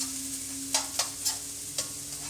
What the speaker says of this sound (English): And now what I'm going to do is I'm going to put in the onion.